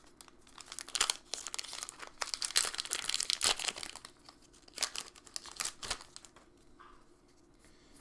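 Someone tears open the foil wrapper of a One Piece card booster pack up close. Sharp crinkles and rips come in irregular bursts, with louder crackling peaks at the start and a few scattered crinkles after.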